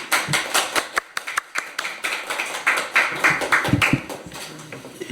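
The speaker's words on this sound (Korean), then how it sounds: "강두구 의원님 큰 박수로 맞이해 보도록 하겠습니다" Small gathering clapping to welcome a Korean lawmaker, uneven scattered hand claps from a modest group, close and crisp, rising and thinning over a few seconds.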